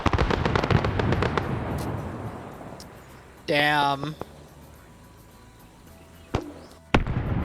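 Video game explosions in rapid bursts crackle at first, then fade into a rumble; a voice speaks briefly, and a few sharp blasts follow later.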